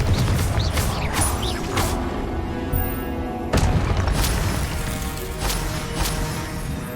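Repeated Confringo blast spells in Hogwarts Legacy, loud booming impacts with crashing debris and whooshes over a dense battle bed, several sharp bursts spread across the stretch.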